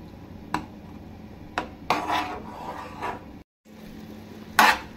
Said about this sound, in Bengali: আর এভাবে নাড়তেই হবে, আবারও নাড়তে নাড়তে সম্পূর্ণ জলটা শুকিয়ে দিতে হবে।